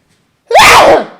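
A single loud, sharp sneeze bursts out after a brief silence, rising in pitch and trailing off quickly.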